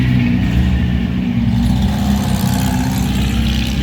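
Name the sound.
Porsche 356 classic car engines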